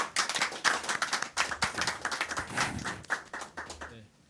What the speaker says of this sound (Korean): 우리 큰 박수로 환영 부탁드립니다